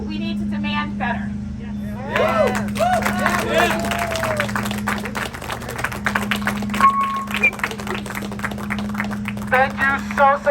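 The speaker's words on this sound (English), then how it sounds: "Can I get another round of applause for Marlene?" At a residents' rally, an audience breaks into applause after a short stretch of speech. The sharp clapping fills the rest of the clip while a voice carries on over it.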